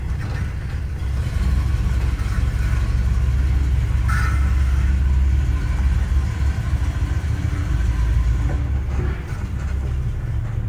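A 1957 Pontiac Star Chief Safari 2-door wagon's engine rumbles steadily as the car is put in drive and pulls off, a loud low continuous drone with no talking.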